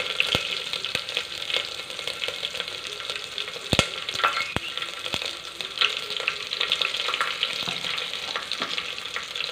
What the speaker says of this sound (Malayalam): പിന്നെ അതിലേക്ക് കുറച്ച് കറിവേപ്പില ചേർത്ത് കൊടുക്കാം.